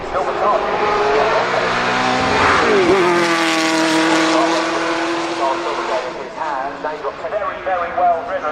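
A V8 race car at the Goodwood Festival of Speed roars past nearby, its engine note rising then falling in pitch as it passes, with commentary heard over it.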